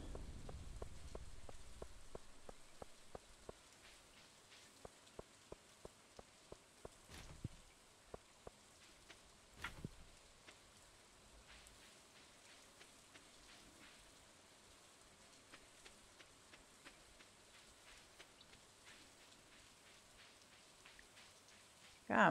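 Rain falls in the farming video game Stardew Valley, a soft continuous patter with scattered sharper drops and a few louder taps, quiet and steady throughout without talk.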